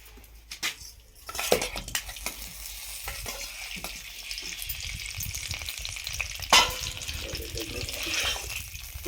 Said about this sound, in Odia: ତାକୁ ତେଲରେ ଏବେ ଭଜା ହେବ।